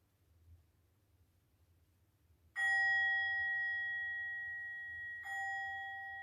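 A meditation bell rings twice at the close of a body-awareness session, each stroke clear and sustained with a long ringing decay in an otherwise quiet room.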